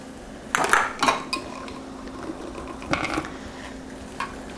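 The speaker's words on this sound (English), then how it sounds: "Remember to scrape the lid because there's a lot of sauce stuck on that." Metal utensil scrapes and clinks against a lid and saucepan, gathering stuck barbecue sauce, in a few sharp close bursts with quiet gaps between.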